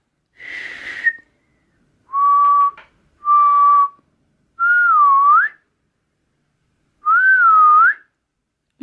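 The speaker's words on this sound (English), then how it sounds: "Oh, why can't I whistle?" A person whistling to call a French bulldog outdoors in the snow, five separate clear whistles, some steady and some swooping up and down, each about a second long with pauses between.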